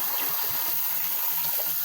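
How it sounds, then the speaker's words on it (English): Tap water runs steadily into a sink for hand washing, a continuous close hiss and splash with no speech. "Then wash your hands when you're done."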